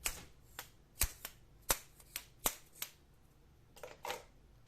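A fishing lure is shaken by hand so its internal rattle system clatters in sharp, irregular clicks and taps, loud and close, with a brief soft rustle near the end.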